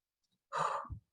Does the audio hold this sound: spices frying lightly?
no